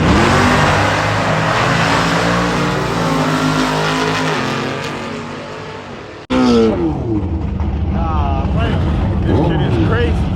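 Tuned street cars at a 2-step competition during a car show, engines held on the limiter in loud, sustained popping revs, one cutting out briefly before another roars in close by, with a crowd talking underneath.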